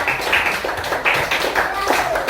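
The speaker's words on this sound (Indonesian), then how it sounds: "Tepuk tangan untuk Maria" Scattered clapping from a small classroom group, a short burst of applause with uneven hand claps over a faint room murmur.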